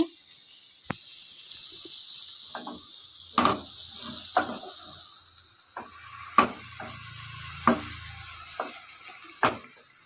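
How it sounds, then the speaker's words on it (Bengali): Chopped onions fry in hot oil with a soft continuous sizzle, punctuated by several sharp clinks and scrapes of a spatula stirring in the pan. "পেঁয়াজগুলোকে একটু ভাজা ভাজা হয়ে গেলে আমি চিকেন আর আলুটাকে দিয়ে দেবো এর ভেতরে"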